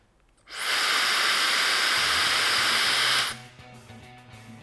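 A counterfeit Chinese Dyson hair dryer at full power blows a harsh, close hissing rush of air that switches on abruptly, holds steady for under three seconds, then cuts off, leaving a quiet background hum.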